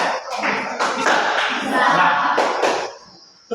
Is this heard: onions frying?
no